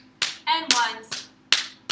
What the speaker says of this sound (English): Have them clap 4 times.